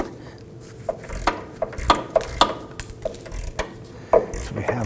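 Wrench clicking on a sway bar link nut of a 2008-2011 Ford Focus, a series of close, irregular ratcheting clicks and metallic knocks over several seconds.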